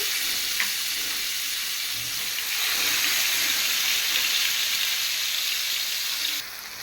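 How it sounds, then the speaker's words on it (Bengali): Spiced pangas fish sizzles steadily in hot oil in a frying pan, a continuous close, fairly loud crackling hiss with a brief sharper pop early on and no talking. "আগে আমি পাঙ্গাস মাছগুলো ভেজে নেই।"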